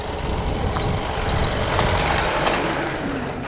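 Trucks grinding along a dusty mountain road on the Annapurna Circuit in the Nepal Himalayas, a continuous close engine rumble and road noise with faint beeping above.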